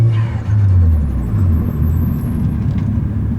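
A right-hand-drive Mazda RX7 with a turbocharged rotary engine pulls hard under acceleration, a loud, close droning rumble that rises and then settles, with no voices over it.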